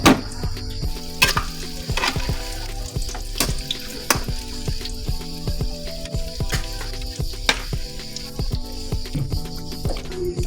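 Homemade banana patties frying in oil in a pan, a constant close sizzle broken by regular clicks and scrapes of a utensil moving them around.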